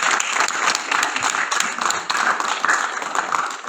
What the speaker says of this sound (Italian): vi chiedo di fargli sentire che siamo italiani con un piccolo applauso